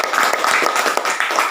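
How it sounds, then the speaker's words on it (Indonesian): Children in a classroom clap together, a quick burst of bright, overlapping hand claps that holds at an even loudness for a moment, with no talk over it. "Baiklah, tepuk tangan untuk kita semua."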